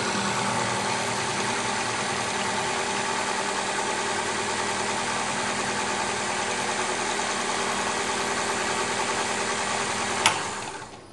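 Pumps on an ink cartridge fill station run steadily as a cartridge is filled with ink, giving a constant mechanical hum and whir throughout, with a brief click near the end and no talk.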